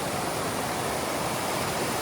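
Giant Springs in Montana, beside a river, gives off a constant, dense rush of flowing water, steady and enveloping, heard alone with no voices.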